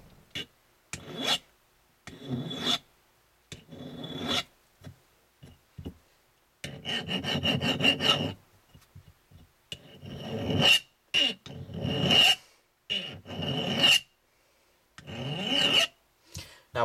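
Hand polishing of a gun slider frame clamped in a cheap, slightly loose vise: repeated rasping strokes in bursts separated by short pauses, close and fairly loud, with no talk.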